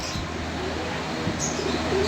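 Pigeons of a Lahori breed coo softly and repeatedly in a loft, with a steady low background and faint chirps, no speech.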